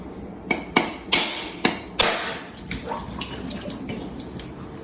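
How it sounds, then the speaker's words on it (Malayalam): A whole coconut is cracked open with a hammer in a home kitchen while making puttu: five sharp, loud knocks in quick succession, followed by a soft trickle of water. "ആദ്യം തേങ്ങ പൊട്ടിക്കാം"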